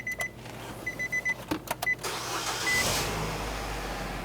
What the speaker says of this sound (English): We're going to go ahead and start up the vehicle and drain that fuel system.